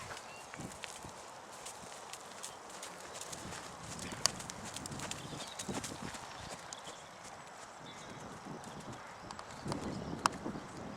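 A horse's hooves strike the ground in a steady rhythmic clip-clop while it is ridden at the trot, continuous throughout with little talk.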